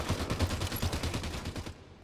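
Assault rifle gunfire in the Halo 5 video game during a free-for-all arena match: a sustained, steady stream of rapid automatic shots at moderate volume that stops abruptly near the end.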